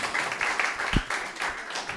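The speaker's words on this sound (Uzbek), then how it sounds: "Ahmad va Xurshid olqishlab qo'yamiz bugungi ishtirokchilarimiz" Applause for two participants on a TV game show, a brief burst of clapping from a small audience with one sharp thump in the middle.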